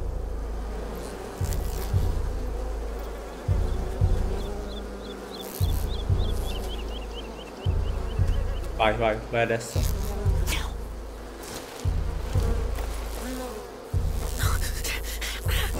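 Bees buzz in a farmyard level of A Plague Tale: Requiem, a steady insect drone beneath repeated low game thuds and footsteps, with brief speech from the player partway through.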